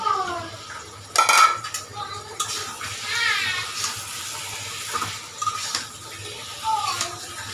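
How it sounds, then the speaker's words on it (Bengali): A metal lid clatters off a pot as fish goes into a pan of masala, a loud clank followed by scattered sizzling, splashes and utensil knocks, close by. "এখন আমি ডাকনা তুলব আর এখানে মাছ দিয়ে দিব"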